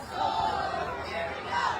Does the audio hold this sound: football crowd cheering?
yes